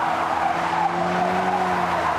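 A Ford Focus RS in drift mode skids with a loud, sustained tire squeal over a steady engine drone, continuous and close for the whole stretch.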